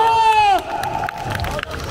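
A street busking crowd in Sinchon, Seoul, cheers for a university dance team. A brief voiced shout rises and falls, then close, scattered clapping and cheering follow, with crowd chatter underneath.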